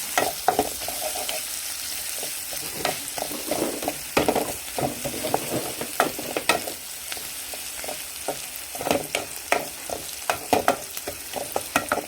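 Dried red chillies, broken into pieces, fry in hot oil for rava upma. The oil sizzles steadily and close by, with repeated stirring clatters and spoon scrapes throughout. No one speaks.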